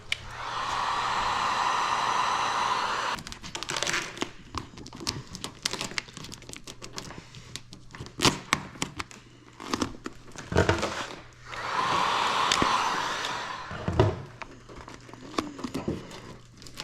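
A heat gun blows in two sustained bursts as it warms vinyl car wrap, a steady whooshing hiss broken by crinkling and tapping of the film being worked by hand between bursts.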